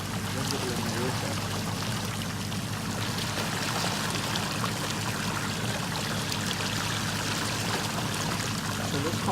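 Water pours continuously into a clear koi pond being treated with medication, a steady, close splashing and trickling that holds at an even level throughout with no pauses.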